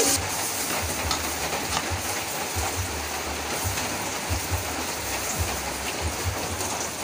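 Onions fry in a pan with a constant dense sizzle, heard up close like heavy rain, and no talk over it.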